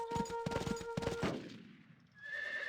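Gunfire and cavalry in a Rise of Nations Napoleonic battle in Brittany, with a loud burst of rapid volleys and a horse whinny that trail off into fainter battlefield noise.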